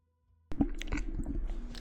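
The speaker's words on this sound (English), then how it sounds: "I'm gonna eat some peanuts." Close crunchy chewing of peanuts, starting abruptly after a brief silence with moist, repeated bites and mastication.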